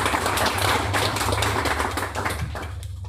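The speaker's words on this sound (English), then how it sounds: "let's give another round of applause" An audience at a food waste panel event gives a round of applause, a dense burst of clapping that continues steadily and then thins out toward the end.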